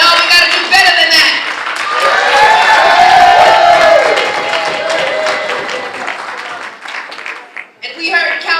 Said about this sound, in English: let's applaud Andrea Stewart Cousins in her absence.